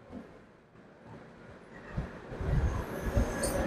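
The Kolkata–Sairang Express pulls into Berhampore Court station in rain, its wheels and carriages rumbling louder and nearer with squealing and clatter building toward the end.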